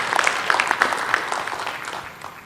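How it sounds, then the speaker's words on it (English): Audience applause in a conference session hall, a dense wash of clapping that starts strong and slowly tapers off, with no voices on top. "one more round of applause"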